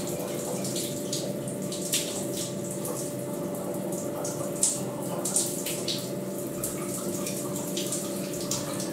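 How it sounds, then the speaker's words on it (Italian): Shower water running steadily in a hotel bathroom in Reggio Calabria, a constant hiss with scattered splashes and drips, heard close and alone without talk. "Se fosse per me ci staria mezza giornata sotto la doccia."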